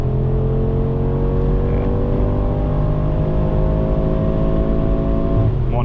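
A 2026 Mercedes G63 AMG facelift's V8 pulls hard on the Autobahn, heard from inside as a loud, continuous engine drone whose pitch climbs steadily through the whole stretch, ending with a brief shift-like change.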